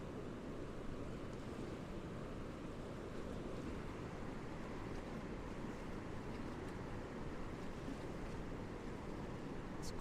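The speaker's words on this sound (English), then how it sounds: "It's quite a bit of water heading out there." Water rushes out in a steady, loud wash of surging waves with gusty wind, continuous and close, with no voices.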